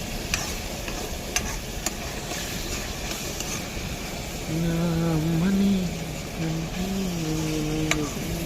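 Chopped tomatoes sizzle and get stirred in a pan while cooking on a bus in Hyderabad. There is a steady frying crackle with scraping stirs, and a droning hum and rumble from the moving vehicle underneath.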